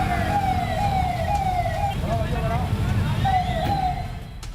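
An ambulance siren wails in repeated falling sweeps from an ambulance stuck in a flooded underpass after rain in Etawah, loud over a low rumble of traffic and engine noise.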